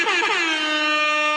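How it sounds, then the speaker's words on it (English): A single loud air horn blast, starting with a wobbling pitch and settling into a sustained, bright, brassy tone. "Hey, where's the air horn?"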